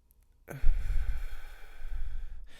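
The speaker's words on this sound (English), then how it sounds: "The breaths being sort of even in the breath in and even in the breath out" A single slow, even breath during a breathing exercise: a soft, close inhale swells and then eases into a long, gentle exhale, quiet and alone.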